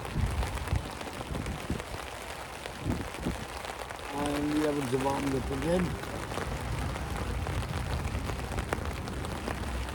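Heavy rain pours down steadily outdoors, a dense continuous patter on surfaces, while someone talks briefly partway through.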